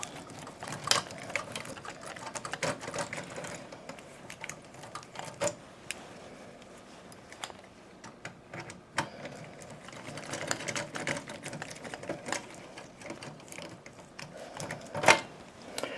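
Torx screws being backed out of the right side panel of a thermal imager A4 copier, a steady busy run of small metallic clicks, ratcheting and tool taps close by, with a few sharper knocks and no talking.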